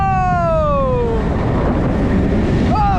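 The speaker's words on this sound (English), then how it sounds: "Oh, splash down!" A boat on a water ride at the Kings Island theme park in Mason, Ohio splashes down, giving a loud, continuous rush of water and wind noise, with rising shouts and a voice over it.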